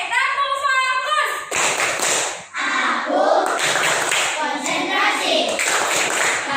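A group of children performs a focus clap in class, sharp bursts of clapping and chanting voices following the teacher's call, fairly loud and close.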